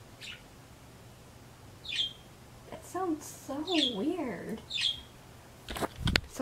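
A pet bird sings in short, bright chirps and warbling trills that come and go across several seconds, fairly near, with people talking around it.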